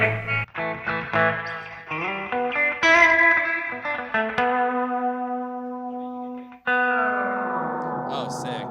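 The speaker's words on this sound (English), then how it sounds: "I got it running into this noise gate, so it kind of kills it quickly" A guitar rings out through heavy reverb and effects, each sustained chord tail chopped off abruptly by a noise gate rather than fading naturally.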